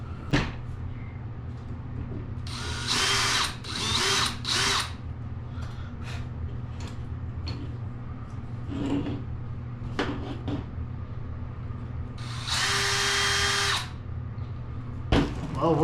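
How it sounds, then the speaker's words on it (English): A power drill marking a 3D printed part runs in several short whirring bursts of a second or so, with a longer burst near the end, separated by quiet handling clicks and knocks. "we're going to mark it with the drill because the marker wouldn't fit down in there"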